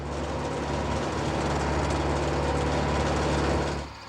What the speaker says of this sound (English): The tractor takes care of the heavier work.